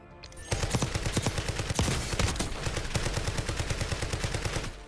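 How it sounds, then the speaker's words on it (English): Rapid, steady bursts of shotgun fire from a Call of Duty Warzone match ring out as the trigger is held down, a loud continuous volley of evenly spaced blasts lasting several seconds. "The fact that I can just hold down the trigger with the shotgun is actually very big."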